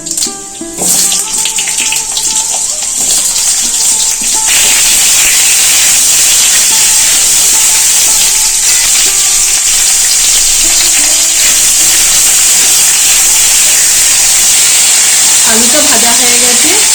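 Potatoes dropped into hot mustard oil already sizzling with a dried red chilli, bay leaf and five-spice seeds, giving a steady, loud, close frying hiss that runs throughout with a few faint clinks.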